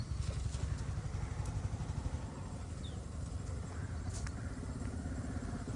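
A motorcycle draws near along a rural village road, its engine a steady low rumble that stays fairly loud and constant from start to finish.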